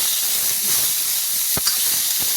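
Boiled peas tipped into a pan of fried onions and potatoes for a palak aloo matar dish, giving a steady close hissing sizzle throughout with a couple of brief clicks, no talking.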